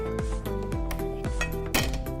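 A metal cooking pot is handled in a home kitchen before shrimp is cooked, with close clanks and ringing metallic scrapes that slide in pitch, repeating several times.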